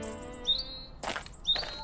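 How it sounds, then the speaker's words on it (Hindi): A thirsty little bird in a cartoon gives two or three short, high chirps close by, separated by brief pauses over a soft background. "सड़क के बीच एलिडा को एक प्यासी चिड़िया की आवाज सुनाई दी।"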